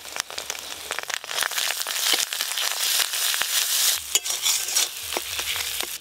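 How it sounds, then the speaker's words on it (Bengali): Ginger and green chili paste with turmeric powder sizzles and spatters in hot oil, crackling steadily and close up while a spoon stirs through it. "গরম তেলে আদা কাঁচা লঙ্কা বাটা দিলে ছিটকায় তেল ছিটকায়"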